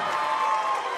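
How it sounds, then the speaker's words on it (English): Indoor crowd at a college volleyball match cheering and applauding after a rally, a continuous wash of claps and shouts at moderate distance, steady throughout. "Crowd loves it."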